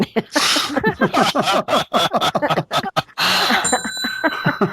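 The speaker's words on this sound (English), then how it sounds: "He's just been dying to hit that bell for a long time" During a podcast conversation, a bicycle-type bell rings with a bright metallic ding over ongoing talk, followed by a lingering ring.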